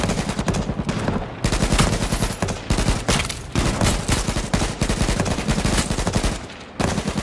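Rapid gunfire in H1Z1 rattles in dense automatic bursts with a few brief pauses, loud and close throughout.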